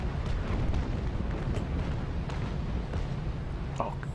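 Ship cannons fire during a naval battle in the Naval Action game, a dense rumbling barrage of booms and blasts rolling on steadily under brief sharper reports.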